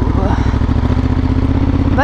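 A motorcycle engine runs cold on a Hokkaido road trip, a steady, loud, close throbbing idle with rhythmic low pulses that continues without a break.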